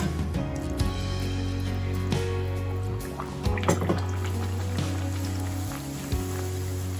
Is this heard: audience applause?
no